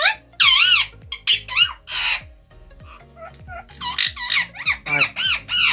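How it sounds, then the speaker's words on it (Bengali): A captive male-and-female pair of ring-necked parrots, the male wearing a neck ring, squawk loudly and close by in harsh, rapid bursts of repeated screeching calls with short gaps between them. "এইটা হচ্ছে ফিমেলটা, আর এই দিকটা হচ্ছে মেল পাখিটা"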